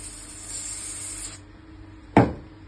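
A small aerosol cleaning spray hisses close up onto an HP 85A toner cartridge, first in a long steady spray that stops, then in one sharp, louder burst after a short quiet gap.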